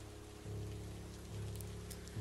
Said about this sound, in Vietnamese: Trời vẫn còn mưa càng lúc càng nặng hạt.